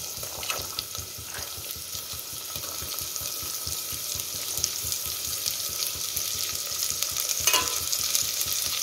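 Vegetables for a Karnataka-style veg sagu fry in a pan, a continuous hissing sizzle with an even rhythmic stirring pulse running through, close and steady, with a few louder scrapes.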